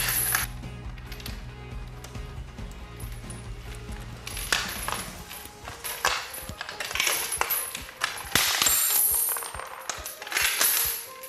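A toughened bicycle security chain is being cut, heard as a low steady grinding drone early on, then a long run of scattered metallic clinks, clicks and ratcheting snaps close by, with no voices.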